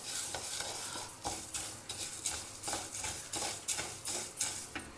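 Tur dal and dry red chilies roast in a hot pan with hing, making a quiet sizzle. Rhythmic scraping and stirring strokes recur about every half second, close up.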